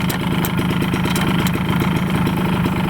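A Suzuki RC100 motorcycle engine running steadily close by after being started, with a continuous mid-pitched buzz and slight pulsing as it revs, no voices over it.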